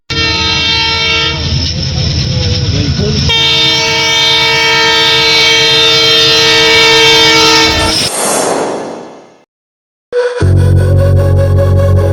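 A train pulls into a station with long, loud horn blasts over a rumbling, rattling run of wheels, then the sound drops away briefly before the rumble and horn resume close by.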